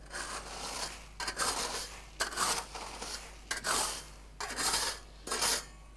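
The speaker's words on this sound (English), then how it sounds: "So what we're going to do is we're going to take away our setting bed, just like Tim did with his sand." A tool scrapes away the sand setting bed beside concrete pavers in repeated gritty strokes, about six rasping passes separated by short pauses, close and fairly loud.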